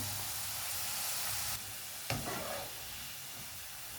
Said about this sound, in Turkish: Küp küp kestiğim patateslerim kızardı.